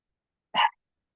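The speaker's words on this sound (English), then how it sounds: "Dog is barking at him." A single short dog bark, faint and somewhat distant, alone in otherwise silent surroundings.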